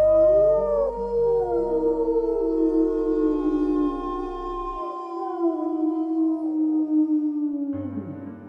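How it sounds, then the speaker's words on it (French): Several wolves howl together, long rising and falling wails that overlap in a mournful chorus, sounding distant and echoing, with no talk, before fading at the end. "Au loin, des hurlements de loups brisèrent le silence."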